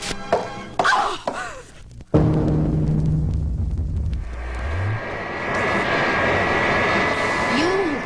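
A propeller plane's engine drones steadily in an old Wonder Woman audio drama, rising after a few sharp thumps and brief voices, then holding a loud continuous roar.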